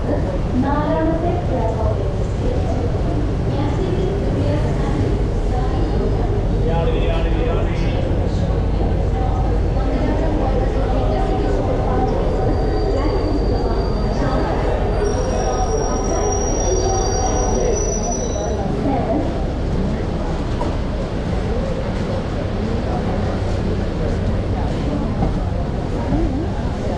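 The Mangalore–Coimbatore Intercity Superfast Express rolls along with a continuous rumble and clatter of rail cars, and the wheels squeal now and then. A voice talks over the train noise throughout.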